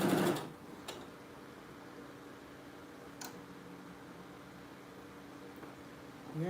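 A sewing machine stitches a shirt seam at the shoulder while it is remade into a blouse, running as a faint steady hum with a few sharp clicks and a louder burst at the start.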